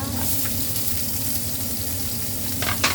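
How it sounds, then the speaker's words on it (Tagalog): Onions brown in olive oil in a frying pan, giving a steady close sizzle with faint stirring scrapes near the end. "Para i-brown natin dito yung onions"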